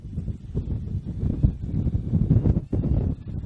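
Wind from the north blowing outdoors across a shooting range, a steady loud rushing buffet on the microphone with gusts rising and falling throughout, no talking.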